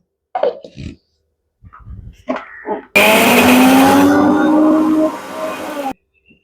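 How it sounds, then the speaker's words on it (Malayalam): Mixer grinder whirring as it grinds a yogurt and green chilli mixture for pappadam pachadi, a loud steady roar of about three seconds that drops in pitch before cutting off, after brief clatter and handling noises. "രണ്ട് ടീസ്പൂൺ തൈര് ഒഴിച്ചാൽ മതി നമുക്കിതൊന്ന് അരച്ചെടുക്കാം"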